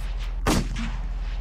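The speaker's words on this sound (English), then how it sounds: "The gunshots are scary" A single sharp gunshot rings out in a Roblox Squid Game round, one loud burst with a short decay over quiet background.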